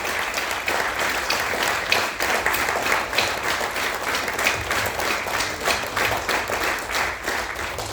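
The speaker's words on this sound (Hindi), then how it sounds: "तालियां जोर से कंटिन्यू कंटिन्यू कंटिन्यू, जोर जोर से कंटिन्यू प्लीज" An audience keeps clapping loudly and steadily without pause, a dense, even wash of many hands filling the hall from start to finish.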